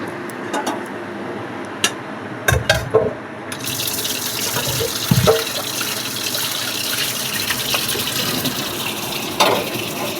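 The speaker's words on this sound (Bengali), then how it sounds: "কড়াইটা একটু ধুয়ে নিলাম" A kadai wok rinsed in a sink: a few sharp metallic clatters and knocks, then a steady, close gush of running tap water that continues to the end.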